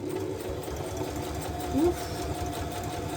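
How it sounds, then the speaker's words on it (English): A sewing machine drives its needle through strong, heavy fabric with a steady, close mechanical whir that briefly strains louder midway, while a person lets out a short grunt. "It feels like I'm sewing through, I don't know, something strong."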